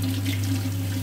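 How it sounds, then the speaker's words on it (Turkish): Mango roots are rinsed under a running tap, giving a steady, close rush of water that holds evenly throughout with no voices. "muslukla yıkıyorum."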